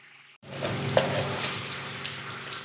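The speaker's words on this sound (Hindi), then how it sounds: "यहाँ पे ये और समोसे भी फ्राई हो रहे हैं" Samosas deep-frying in hot oil, a steady dense sizzle and crackle that runs close and fairly loud after a brief silent start, with a small pop partway through.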